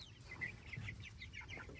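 Chickens in a grassy chicken tractor cluck softly, a string of short, repeated clucks close by and quiet against a faint outdoor hum.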